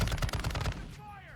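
Rapid automatic gunfire in the shooter game Warzone 2, a dense burst of close, loud shots lasting under a second before cutting off into a quieter tail.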